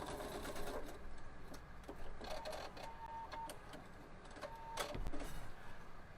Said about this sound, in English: so I'm just gonna sew over that, and then sew back over